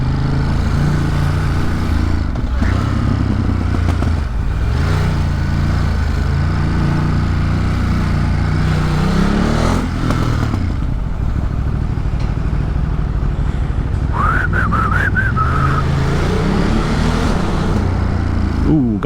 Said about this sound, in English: Riding a brand new Ducati.